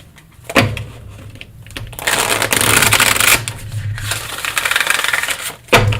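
A tarot deck is shuffled by hand at a table, with crisp riffling and card slaps in bursts, close and fairly loud, a couple of sharp clacks between them and no talk.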